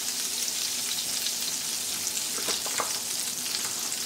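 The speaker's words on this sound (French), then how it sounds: "Une fois que le beurre et l'huile commencent à chauffer, je mets une petite cuillère d'ail haché et de persil" Minced garlic and parsley sizzle in hot butter and oil with a pinch of salt, a steady, bright crackling fry with a few sharper pops and stirring sounds midway, close and unaccompanied by talk.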